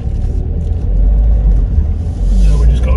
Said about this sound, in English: You can probably hear the cars spinning like mad.